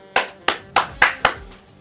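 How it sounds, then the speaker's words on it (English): Five sharp, separate hand claps in an even rhythm, close and loud, with short silent gaps between them and no speech. "Let's give him a round of applause for that."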